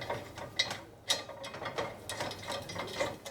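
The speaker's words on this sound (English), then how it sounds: "And then we'll tighten that up with our Allen key, and that's done." An Allen key tightens a bolt on the CNC-machined pocket of an Argentinian grill rotisserie, giving a series of close, quiet metallic clicks and ratcheting ticks in an uneven rhythm.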